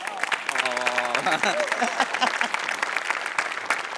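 A comedy-show studio audience breaks into steady applause, with speech and laughter mixed over the clapping.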